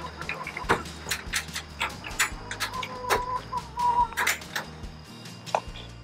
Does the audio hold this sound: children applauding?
no